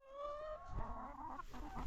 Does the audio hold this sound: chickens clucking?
yes